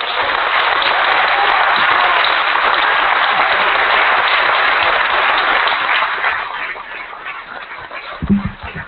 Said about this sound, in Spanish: un gran aplauso para el amigo